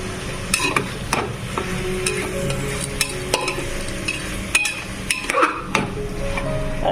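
Mixed vegetables fry in a pan as chopped tomatoes go in for khichuri, a close sizzle broken by repeated scrapes and knocks of a spoon stirring against the metal pan.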